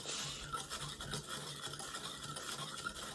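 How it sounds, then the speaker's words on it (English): Hair bleach and oxidizer mixture being stirred in a bowl: quiet, continuous scraping and swishing strokes of a brush against the bowl, close by, with no voices. "So as I'm going to stir this up, remember this is our oxidizer and our bleach."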